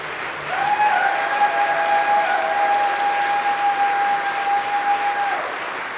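Loud, steady audience applause at a concert for several seconds, with a sustained ringing tone running through most of it.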